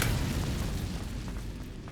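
Incendio fire spell cast in Hogwarts Legacy, a deep booming burst of flame that starts loud and decays into a rumbling roar over two seconds.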